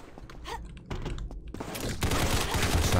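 Rapid bursts of video game gunfire crackle in short clusters, growing louder and denser toward the end, with a clicking, keyboard-like texture mixed in.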